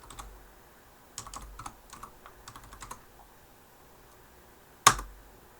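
A computer keyboard is typed on in short, quiet bursts of key clicks while a movie clip name is entered in Flash, ending with one sharper single keystroke near the end.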